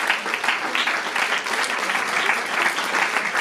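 Audience applause fills the room at the close of a fashion show in Dijon, dense and continuous clapping at close range with a faint voice mixed in.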